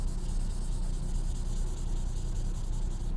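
Hand sanding a 1972 Chevelle's car body with 1500-grit sandpaper, a steady, close, continuous rubbing scrape for a few seconds with no one talking.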